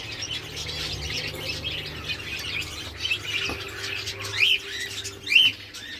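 Small bird chirps ring out a few times over a steady low background hum, brief bright calls spaced apart.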